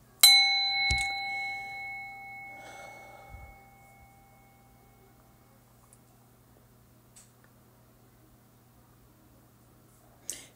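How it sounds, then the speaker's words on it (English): A small bell is struck once, giving a clear, close metallic ding that rings out and slowly decays into quiet, with a faint tap near the end. "I'm going to ring my bell, y'all."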